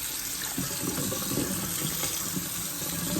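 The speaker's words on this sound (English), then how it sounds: "So right now I'm rinsing with cold water." Cold water runs steadily from a sink faucet while a freshly dyed teal dress is rinsed, a continuous close splashing stream with slight irregular sloshes.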